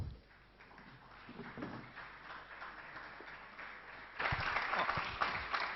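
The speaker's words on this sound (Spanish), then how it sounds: "Los recibimos a todos con un fuerte aplauso." Applause at a conference panel session, starting fairly faint and distant, then swelling louder near the end as more of the audience joins in.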